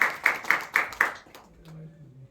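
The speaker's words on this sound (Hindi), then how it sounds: "अरे ताली बजाओ।" A few people clap five times in an even, unhurried rhythm, fairly close, after which the clapping fades and a voice is heard faintly.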